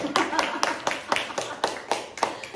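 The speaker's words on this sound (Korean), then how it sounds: "박수 한번 주세요" Applause at a Korean Sunday church service: a small group claps in a steady, even rhythm of about ten sharp, close claps over roughly two and a half seconds.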